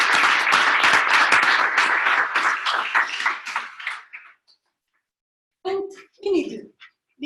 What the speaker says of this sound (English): a big round of applause for all of you area directors who got these numbers